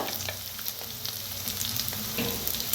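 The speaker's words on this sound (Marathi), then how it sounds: "मिक्स करून भाजून घेऊया" Onion and curry leaves frying with turmeric in a pan give a steady, close sizzle with scattered crackles and pops throughout, and no voices.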